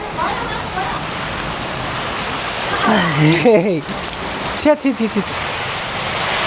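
Heavy monsoon-style rain in Pokhara, Nepal pours down in a constant, dense hiss while people talk briefly over it.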